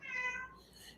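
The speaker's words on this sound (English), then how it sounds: "hopefully y'all will hear the cat in the background" A cat meows once in the background indoors, a short drawn-out call that fades at the end.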